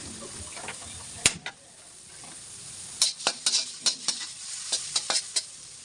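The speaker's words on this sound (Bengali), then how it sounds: "এখন এটাকে হালকা ভেজে নেব।" Chopped garlic and onion frying lightly in mustard oil, a continuous sizzle broken by a rapid run of sharp metallic scrapes and taps as a spatula stirs the pan, close and fairly loud.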